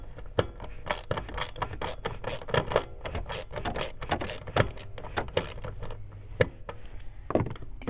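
Metal socket on a ratchet clicks and clinks while removing the blower motor resistor from a 2001 Dodge Grand Caravan, giving a close, busy series of sharp taps and rattles with a few louder knocks.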